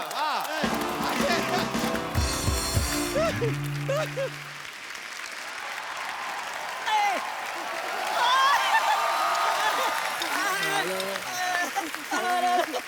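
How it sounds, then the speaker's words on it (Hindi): Enthusiastic audience applause in a comedy talk-show studio, loud clapping that swells and fades over several seconds, mixed with musical stings and people talking over it. "यो बच्चा के लिए जोरदार तालियां।"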